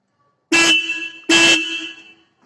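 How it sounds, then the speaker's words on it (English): A Royal Enfield Meteor 350 motorcycle horn gives two loud, close honks, each about three-quarters of a second long, separated by a short gap, with nothing else audible. "that is the sound of the horn. I'll even show you that."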